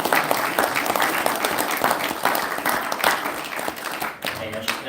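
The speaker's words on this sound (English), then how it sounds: "Everybody give these folks a round of applause." A crowd at a gun owners' lobby day rally applauds steadily, a dense, fairly loud wash of clapping that continues for about five seconds and then begins to thin.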